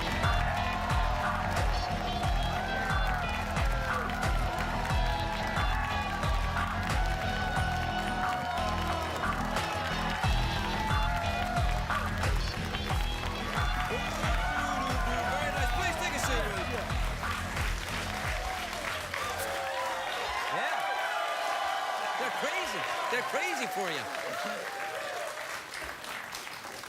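A late-night television talk show studio audience claps and cheers in loud, sustained applause that fades toward the end, with a host speaking over it.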